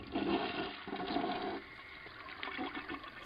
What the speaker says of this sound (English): Is somebody using my toilet?